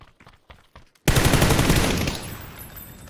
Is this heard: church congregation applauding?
no